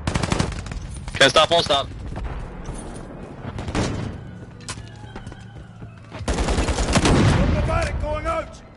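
Rapid bursts of automatic gunfire in Call of Duty from a thrown decoy grenade, loud and close, coming in several clusters with brief pauses, with a player talking briefly over the shooting.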